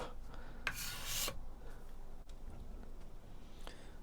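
A card scraper rasps across hard maple in a few short, close strokes, the loudest a bright, hissy shave about a second long, with quieter scratches around it.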